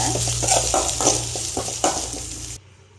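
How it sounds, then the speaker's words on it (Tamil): Steady frying sizzle of mustard seeds, cumin, onion and curry leaves with scraping stir strokes in a pan, close and fairly loud, cutting off abruptly near the end. "கடுகு ஜீரகம் வெங்காயம் கருவேப்பிலை போட்டு வ வதக்கிக்கோங்க"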